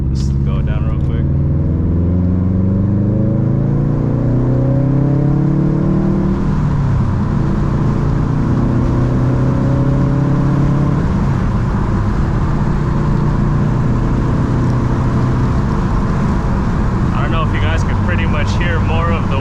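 A Subaru WRX STI engine with a Tomei Ti exhaust climbs in pitch as it accelerates through the gears onto a freeway, under a constant rush of wind and road noise.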